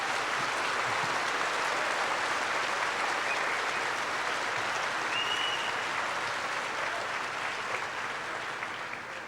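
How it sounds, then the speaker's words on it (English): A large crowd at a 2006 high school commencement claps for a graduation speaker, a loud sustained roar of applause that holds steady for nine seconds and only thins slightly at the close. "let's have a round of applause for him"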